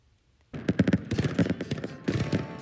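A fireworks display bursts in after a brief silence: a dense run of loud, crackling booms and pops follows one another rapidly and continuously with no pauses.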